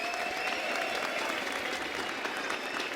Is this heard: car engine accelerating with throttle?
no